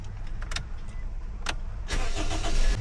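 A car's engine cranks and catches during a yearly warrant of fitness inspection in New Zealand, with clicks and a brief crank followed by a steady idle that rises slightly, close and clear with no talk.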